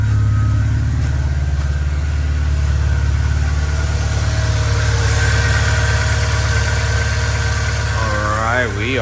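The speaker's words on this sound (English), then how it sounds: "Give it a little bit of gas just to see how it goes." A 1996 Volkswagen MkIII with a 4-speed automatic runs steadily with a low engine hum. Near the end the revs climb briefly as it is given some gas, and a person talks over the engine noise.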